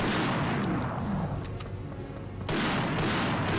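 SNR-227R rifle fire in the shooter game Global Defence Force, a dense rapid burst of gunfire with loud booming impacts, easing briefly in the middle before the volley resumes at full strength.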